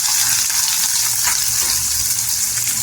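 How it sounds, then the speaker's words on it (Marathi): Onions fry in a pan until golden, a loud, close, continuous hissing sizzle with faint stirring underneath. "कांदा पण छान असा गोल्डन कलर करून घ्यायचा"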